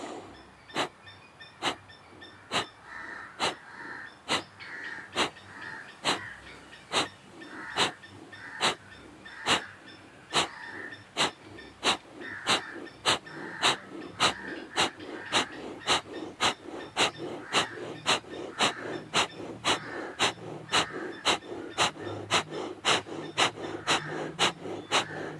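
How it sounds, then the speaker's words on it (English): Kapalabhati yoga breathing: rapid, forceful nasal exhales repeat in a steady, even rhythm of roughly two per second, close and distinct, growing slightly louder over time with no talking. "begin Kapalabhati, deep inhale."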